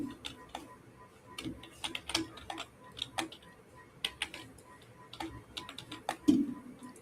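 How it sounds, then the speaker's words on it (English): Keyboard typing during an online governance meeting call: irregular, crisp keystroke clicks in quick bursts, fairly faint and close, with no talking over them. "I was typing on Discord"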